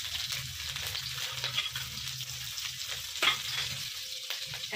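Five spice, dried red chili, chopped ginger and green chili sizzle and crackle steadily in hot oil in a pan, with occasional stirring scrapes, close and moderately quiet.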